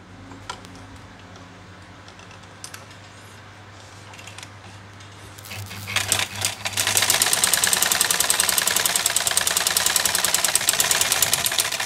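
A black domestic sewing machine stitching denim with a size 18 or 21 needle starts at moderate speed, then after a brief pause runs in a loud, fast, steady mechanical chatter that continues to the end, with no talk.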